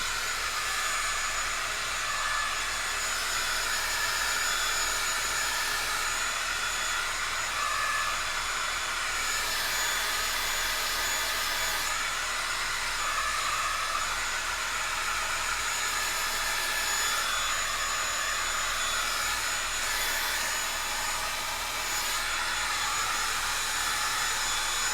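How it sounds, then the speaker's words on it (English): A hair dryer blows continuously at close range, a loud steady whooshing hiss with slight shifts in pitch as it moves. "So now I'm going to take my blow dryer and I'm going to dry this layer."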